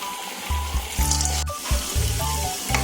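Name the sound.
cassava vada dough frying in oil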